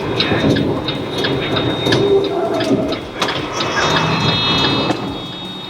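Steady rain falls outdoors near a scene where an ambulance waits, a dense, continuous hiss with scattered louder patters and thumps throughout, fairly close and unbroken.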